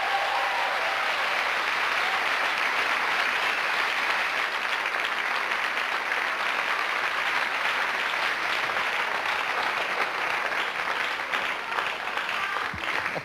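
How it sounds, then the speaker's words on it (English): Studio audience giving a comedian a big round of applause on a late-night television show, thick sustained clapping that holds steady for over thirteen seconds without pause. "So give him a big round of applause."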